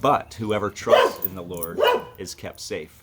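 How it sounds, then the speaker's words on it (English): A dog barks indoors in short yips over a close voice that keeps talking throughout, the barks mixed in with the speech rather than heard alone. "And that's my dog barking, telling me it's probably time for the devotional to be done."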